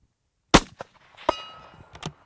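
A rifle shot rings out as a sharp impulse, followed a beat later by a metallic clang from a struck steel target and a lingering ring, then a couple of smaller knocks; no talking.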